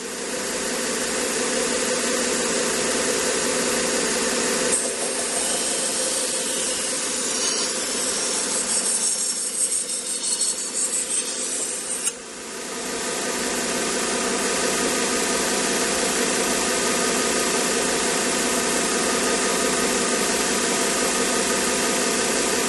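A knife blade grinds against a 1x30 belt sharpener, a steady, loud, hissing whir that runs unbroken throughout and changes tone for several seconds in the middle as the blade's contact shifts.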